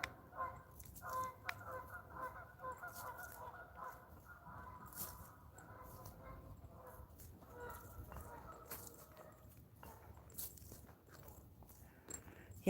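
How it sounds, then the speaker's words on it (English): Geese honk repeatedly at a moderate distance, a noisy overlapping chorus of calls continuing throughout against a steady outdoor background. "Yeah, those geese are loud."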